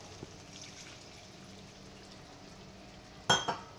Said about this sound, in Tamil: தண்ணியை ஊற்றிட்டு நல்லா மிக்ஸ் பண்ணிக்கோங்க.